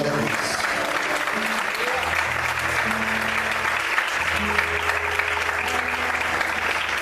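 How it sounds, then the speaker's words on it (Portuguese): A church congregation applauds during a service, a dense, continuous wash of clapping with sustained tones from instruments or voices running beneath it. "Quantos podem aplaudir o Senhor?"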